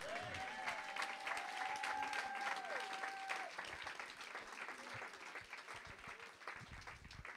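A church congregation applauds during a pastor's sermon, a dense, sustained wash of many hands clapping that stays loud for several seconds and then eases slightly, with a faint tonal musical line underneath.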